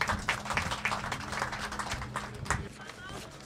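An audience at a mushaira poetry evening during an annual award night claps steadily in a dense, continuous patter of applause that lasts throughout without pause.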